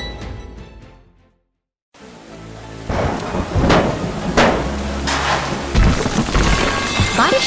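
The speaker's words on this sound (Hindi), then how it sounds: "बारिश की बूंदें इस शांत निर्माण स्थल पर गिर रही हैं" Rain falls steadily over a quiet construction site after a brief silence, with loud, dense patter and heavy rumbling bursts like thunder rolling through.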